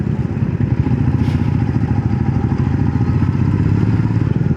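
A motorcycle riding an off-road forest trail in Sariska, a loud continuous engine drone with rattling clatter, close and steady throughout.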